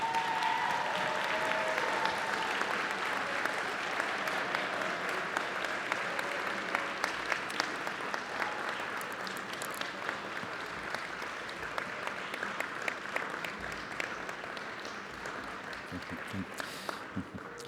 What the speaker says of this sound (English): give the graduates another well-deserved round of applause